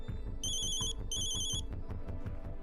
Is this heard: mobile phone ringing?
yes